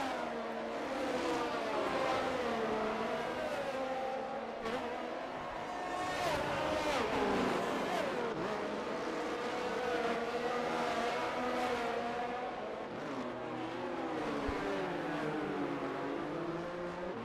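Several race cars in a racing video game run through the tunnel and chicane at Monaco, their engines wailing at high revs and shifting pitch as they brake and accelerate, a continuous layered drone with no talk.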